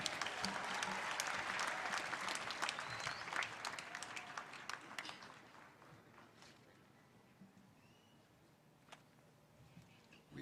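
Audience at a Technical University of Kenya graduation ceremony applauds, a dense burst of many hands clapping that thins and fades toward the end, with a few scattered late claps.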